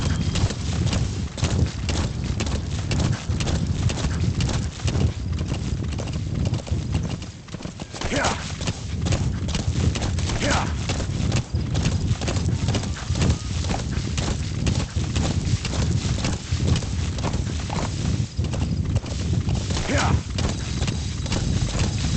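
Horse hooves in the Metal Gear Solid V video game clip-clop in a continuous, brisk galloping rhythm over a dense game soundscape, with occasional neighs. Speech is faintly present in the mix.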